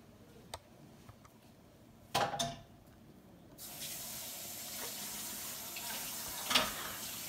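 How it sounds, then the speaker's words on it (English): Kitchen sink tap running as a cup is rinsed, a steady wash of water that starts after a couple of short knocks and continues moderately loud to the end. "Let me throw this cup in the sink."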